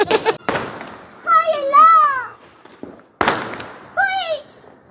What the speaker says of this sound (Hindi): और ये देखे फायर वर्क्स भी हुए